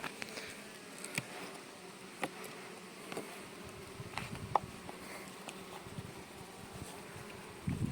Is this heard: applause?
no